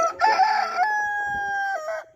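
A rooster crows once, loud and close, its drawn-out call rising and holding before breaking off, with faint hen sounds around it.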